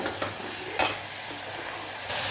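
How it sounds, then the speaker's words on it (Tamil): Mashed tomato sautés in oil for an okra curry, making a close, even sizzle with a single crisp utensil tap partway through. "கொஞ்சம் வதக்கிக்கலாமா அந்த தக்காளியை"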